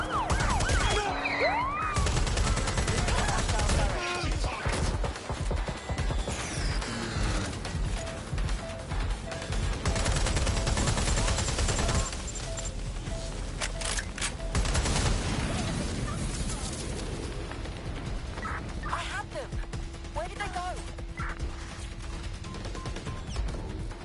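Gunfire and crashing chaos in the video game Watch Dogs: Legion, dense loud bursts mixed with a wailing police siren and music throughout.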